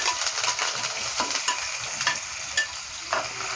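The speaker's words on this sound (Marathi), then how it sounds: "ते आपल्याला थोडंसं फ्राय करून घ्यायचं तेलामध्ये." Finely chopped onion frying in oil for a dhaba-style bhindi masala, a steady close sizzle with scattered crackles and a few sharp scraping stirs, no talking.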